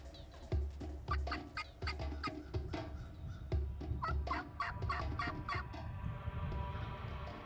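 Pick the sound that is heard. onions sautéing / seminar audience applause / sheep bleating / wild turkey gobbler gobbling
wild turkey gobbler gobbling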